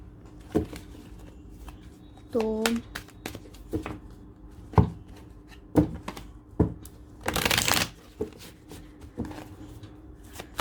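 Tarot cards are shuffled up close in bursts of riffling and tapping, with short slaps between them and one longer ruffle near the end. There is no speech.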